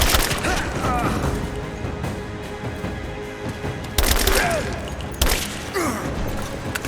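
Dense gunfire and booming impacts in a combat scene from the video game Rise of the Tomb Raider, loud and continuous with sharper bursts breaking through, and shouted voices mixed into the chaos.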